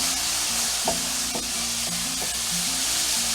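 Garlic frying in a pan alongside mushrooms, a steady close sizzle with a utensil scraping and stirring through it, no voices.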